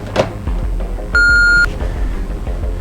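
A single steady electronic beep sounds as a telephone is switched to speakerphone, a clean tone lasting about half a second over a quiet room background.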